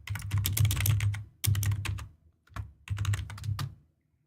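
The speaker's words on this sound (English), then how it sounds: "Pardon the typing" Rapid clattering keystrokes on a computer keyboard come in three dense bursts separated by brief pauses, close and loud with no talking over them.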